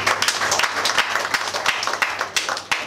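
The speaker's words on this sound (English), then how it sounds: "Let us clap for the mom." Wedding guests clap for the mother of the couple, a close, uneven burst of hand claps with distinct individual slaps over a thinner crowd of applause.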